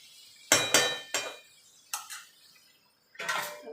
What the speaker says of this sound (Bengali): আলু আর মাংস একসঙ্গে ভালো করে কষিয়ে নেব